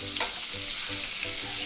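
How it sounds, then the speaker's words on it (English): Chicken and vegetables sear in a Gotham pan for a stir fry, giving a steady, close sizzle with a few scraping stirs and no voices. "I love pan searing rather than putting it in the oven"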